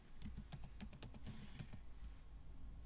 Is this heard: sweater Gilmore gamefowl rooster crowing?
no